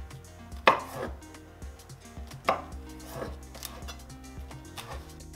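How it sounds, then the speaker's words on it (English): Knife chopping julienned carrots and leafy greens such as silver beet on a board, a few sharp close thuds at irregular intervals over a quiet background. "I cut up some carrots and julienned, along with leafy greens like silver beets."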